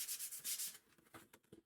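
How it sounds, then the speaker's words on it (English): Quick back-and-forth rubbing of sandpaper on both sides of a small craft piece, close and soft, a few rhythmic strokes followed by lighter scratchy scrapes. "I'm just going to sand both sides because they're feeling a little rough."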